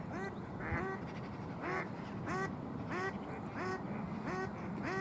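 Mallard ducks at a pond give repeated loud quacks in short bursts, roughly one call every half second to second, close by over a steady outdoor background.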